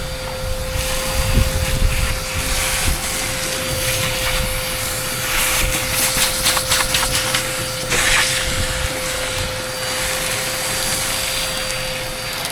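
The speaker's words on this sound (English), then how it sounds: "So let's give this a quick hoover and see where we're at" A vacuum cleaner hoovers the stripped floor of a bus being converted into a home, running as a steady loud whine and roar with a constant hum, bumping and scraping as the nozzle moves over metal.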